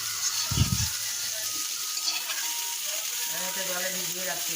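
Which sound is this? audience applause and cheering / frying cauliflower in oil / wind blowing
frying cauliflower in oil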